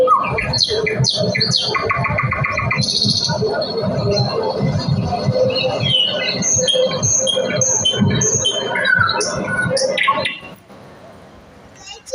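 Birds chirp and tweet from a mango tree, busy overlapping calls throughout, while people talk nearby over them.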